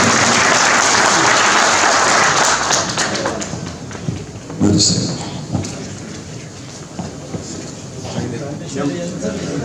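Loud applause breaks out at a political party district congress as a plaque presenter is invited up, a dense clatter that thins after a few seconds into scattered claps and thumps under a voice.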